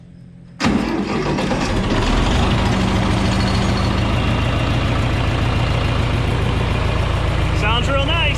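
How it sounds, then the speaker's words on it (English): John Deere 3010 tractor with synchro 8-speed transmission, cranked and fired up, then settling into a steady, loud, close idle that runs without a break. "So I'm going to fire up this 3010 now that we're back with the 520."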